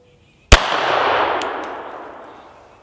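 A single .22LR shot from a suppressed Beretta 21A Bobcat pistol fired outdoors: one sharp crack followed by a long, slowly fading rumble of echo, alone without speech.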